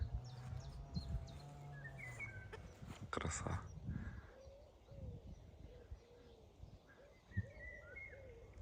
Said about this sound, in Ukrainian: Вивільга співає.